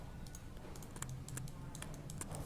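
Rapid computer keyboard typing for Rhino 3D modelling alias commands, a steady run of crisp key clicks over a low background hum, with no voices.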